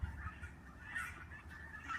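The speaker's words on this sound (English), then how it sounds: "here chilling with the geese." Geese honking close by in a garden, with goslings nearby; a steady run of rough, overlapping honks and calls lasting throughout, with no talking.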